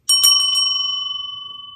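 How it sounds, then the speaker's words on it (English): A small metal bell unpacked from a Witches Moon subscription box rings alone and close: several quick strikes, then a clear, bright tone that rings on and slowly fades. "Beautiful sounding bell."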